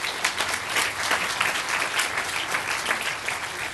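A crowd claps steadily throughout, a dense patter of many hands at an even level with no voices over it.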